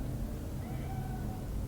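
A cat meows in Cyberpunk 2077, a faint, drawn-out call over a steady low game ambience, with no talk.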